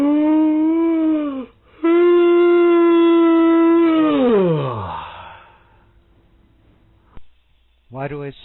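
A patient yawns aloud during a therapy session recording: a long, drawn-out voiced yawn with a falling sigh at the end, followed by quiet and a brief vocal sound.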